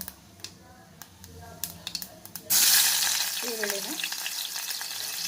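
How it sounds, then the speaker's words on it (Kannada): Cumin seeds crackle and spit as they fry in hot oil, a loud continuous sizzle that bursts in halfway through after a quieter stretch of faint clicks and kitchen noise. "ಸ್ವಲ್ಪ ಜೀರಿಗೆ ಹಾಕ್ಬಿಟ್ಟು ಜೀರಿಗೆ ಎಲ್ಲ ಚಟಪಟ ಅಂದಾದಮೇಲೆ"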